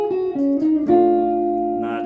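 A short jazz soloing lick over a jazz tune moves through a few sustained melodic notes, with a pickup note leading into a longer held tone, played clearly and alone.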